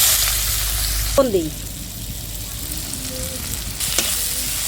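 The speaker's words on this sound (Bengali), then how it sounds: "এবার পেঁয়াজটা ভাজা লই" Onion sizzles and crackles in hot oil in a pan while fish tail bharta is being prepared, a steady frying hiss from start to finish, joined by a short spoken remark and a few utensil clinks.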